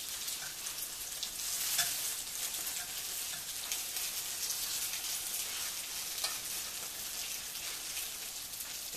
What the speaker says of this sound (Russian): Когда одна сторона обжарится, мы их переворачиваем